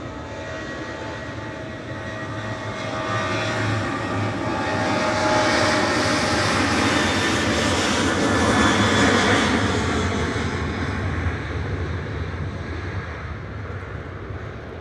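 A Eurowings-style departure: a Boeing 737-800 jet airliner taking off from Manchester Airport bound for Corfu, its engine roar swelling to a loud peak mid-way and then fading into the distance, steady and unbroken, with no voices.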